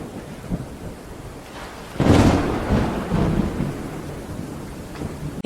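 A heavy thunderclap breaks in sharply partway through and rolls on as a long rumble over steady rain.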